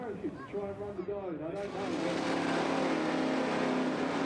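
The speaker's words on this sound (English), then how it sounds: "Burnouts completed" Drag racing cars at a doorslammers event rev hard through their burnouts, a sustained loud engine roar that builds and holds steady, with a commentator talking over the first part.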